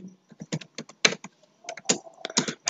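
Keys clatter on a computer keyboard as HTML code is typed, in irregular bursts of quick taps with short pauses, close and fairly clear, with no talking.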